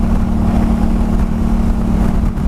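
A motorcycle engine held at raised revs by a Kaoko throttle-lock cruise control, heard as a loud, steady, close droning rumble that holds even for a couple of seconds.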